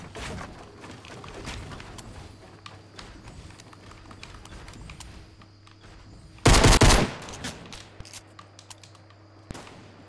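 Gunfire in a Fortnite battle royale crackles in rapid, scattered shots throughout, with one loud close burst in the middle and faint clicking between the volleys.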